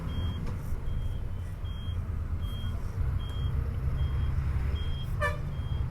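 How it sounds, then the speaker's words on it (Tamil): A broiler chicken lorry rolls along a highway near Palladam with a steady, rumbling engine drone. Evenly spaced high reversing-style beeps and a brief horn toot near the end sound over it. "ப்ராய்லர் லாரி தான்"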